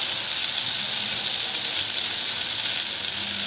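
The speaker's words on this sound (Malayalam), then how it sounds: "അപ്പൊ നമുക്ക് ഈ പാനിലേക്ക് ഒരു ടീസ്പൂൺ ബട്ടർ ഇട്ട് കൊടുക്കാം." A teaspoon of butter sizzles and fries in a hot pan while vegetables are sautéed for baked kilimeen fish, a steady, bright crackling hiss that holds evenly throughout with no talking.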